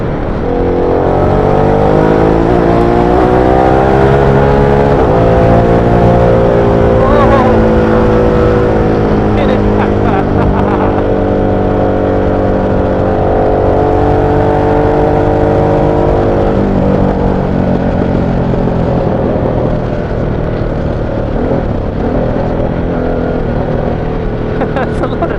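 A Harley-Davidson Sportster S cruiser motorcycle accelerating hard with clutch-operated gear changes, its loud engine drone rising in pitch through each gear with brief dips at the shifts, steady and close throughout the ride.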